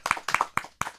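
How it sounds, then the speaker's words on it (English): A few people clapping at a season finale gathering, four distinct close bursts of hand claps in quick succession, loud and dry with no talk over them. "A big round of applause for"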